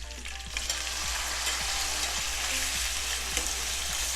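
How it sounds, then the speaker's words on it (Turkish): Meat sizzles and crackles steadily in hot oil for çiftlik kebabı, a dense close frying hiss with soft periodic scraping strokes of stirring underneath, no voices. "Aynı yağa etimizi salacağız."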